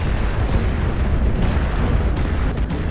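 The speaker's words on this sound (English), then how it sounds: "Oh, that's a good airstrike." Sustained heavy rumbling blast from an airstrike in the mech combat game MechWarrior Online, a loud, continuous low roar of explosions filling the whole moment with no talk.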